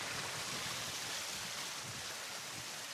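Water runs steadily in a stream through a Japanese wildlife garden made in an old quarry, heard from near a bridge as a soft, even broadband rush with no voices.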